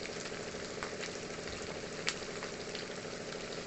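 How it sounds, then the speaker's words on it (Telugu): Masala with green chillies and chilli powder frying in a pot for gongura mutton curry makes a soft, steady sizzle with faint bubbling and one small click, with no one talking. "ఇప్పుడు ఈ మసాలా బాగా వేగాలి వేగేంత వరకు కొంచెం వేగి దగ్గర పడాలి"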